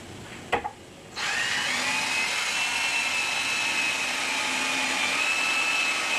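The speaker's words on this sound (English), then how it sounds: "Sawing ASMR." Sawing in a workshop: a steady, unbroken hissing whine starts abruptly after a brief knock and runs evenly at the same level to the end.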